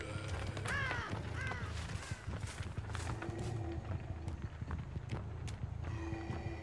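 Crows caw and flap away in a video game, with harsh calls near the start, hoofbeat-like clip-clop and footstep sounds running steadily underneath, and scattered clicks throughout.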